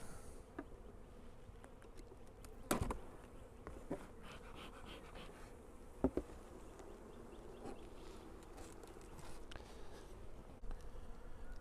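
Honey bees buzz softly around hive frames, a faint continuous drone with a few brief louder passes near the microphone and occasional light handling knocks.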